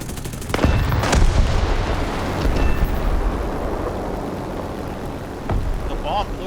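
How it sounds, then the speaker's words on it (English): A big 1,100-pound bomb detonates in War Thunder and wipes out two medium tanks: sharp blasts followed by a long rumbling roar that slowly fades, with a faint voice near the end. "The bomb blew up 2 tanks. It blew up 2 medium tanks."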